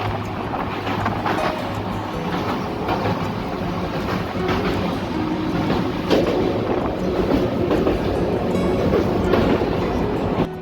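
An express train on the Harangul to Pune line runs steadily with a continuous rumble of wheels on track and faint clickety-clack, loud and near throughout with no talk.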